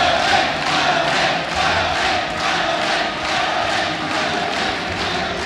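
A French crowd at a StarCraft 2 WCS Premier League finals match cheers and roars loudly, a dense sustained wall of voices with rhythmic swells like chanting, and no talk on top.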